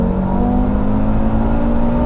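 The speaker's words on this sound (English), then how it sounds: "First gear pull, guys." A 685 bhp Audi RS3 pulling hard in first gear, a loud, close, continuous engine drone with a steady strained tone and no talk over it.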